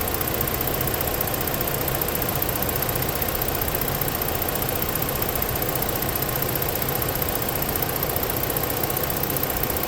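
A 2015 Ford Police Interceptor utility with a 3.7 gasoline engine idling, a close, steady, even mechanical hum and rumble that continues unchanged throughout with no talking.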